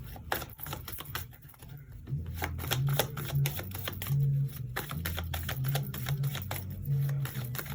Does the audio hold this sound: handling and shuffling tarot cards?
yes